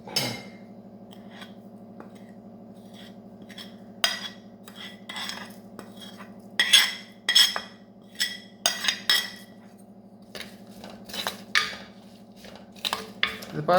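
A spoon working chili powder, turmeric and salt into coconut oil in a bowl on an unlit stove: repeated close metallic clinks and scrapes in irregular bursts over a steady low hum, with no talk.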